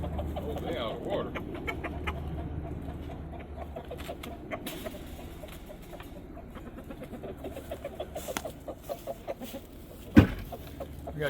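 Backyard chickens cluck repeatedly nearby, a scattered run of short, pulsing calls over several seconds, with a person's voice heard faintly alongside and a sharp knock near the end.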